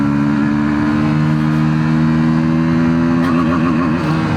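KTM Duke 160 motorcycle accelerating through the gears, a loud, close engine drone rising steadily in pitch, wavering briefly near a gear change toward the end, with no talk over it.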